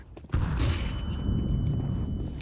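A sudden sharp blast from a Counter-Strike grenade bursts in after a brief quiet, followed by a rumbling, sustained low decay of debris and noise.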